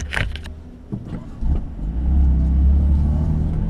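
A car pulls through the raised entry barrier onto the Nürburgring Nordschleife for a Touristenfahrten public session. Its engine rumble swells from a low idle into a deep, steady drone as it drives off, close by.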